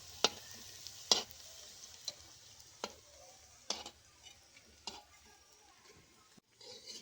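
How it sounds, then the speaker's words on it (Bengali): Sago pearl pakoras fry in hot oil, a faint, soft sizzle broken by a few sharp, scattered pops and clicks, with no talk. "এগুলোকে আরেকটু লাল লাল করে ভেজে নামিয়ে নেব"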